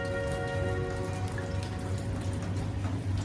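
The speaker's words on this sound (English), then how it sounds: "it rains with the most abandon I have ever seen" Heavy rain falls steadily and densely at night, a continuous wash of drops patters on surfaces close by, with a faint tonal hum running beneath and no voices.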